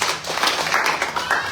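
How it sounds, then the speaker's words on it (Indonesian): Church congregation clapping together in applause during a sermon, a steady dense patter of many hands filling the room, moderately loud. "Berikan tepuk tangan untuk Tuhan."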